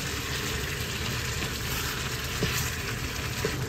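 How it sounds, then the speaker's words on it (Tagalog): Meat frying in its own rendered fat and released juices for a Bicol Express dish, giving a steady, close, even sizzle with no talking. "Naluluto sa sariling lasa at mantika."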